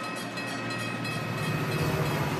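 A passenger train rumbling steadily nearby, with a continuous low roar and faint rattle of the carriages running without a break and no voices.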